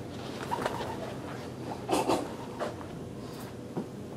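A pigeon coos a few soft, low calls outdoors against quiet background noise, with no voices present.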